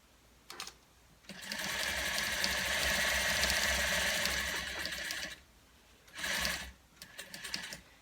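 A sewing machine stitching valance fabric runs in a long, steady whirring burst of about four seconds, bracketed by shorter bursts of rapid stitching, close and clear with no talk.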